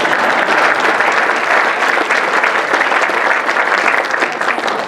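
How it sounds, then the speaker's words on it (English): An audience at a city's state-of-the-city address applauds steadily, a dense, even wash of many hands clapping at close range that holds for about five seconds without voices. "Applause."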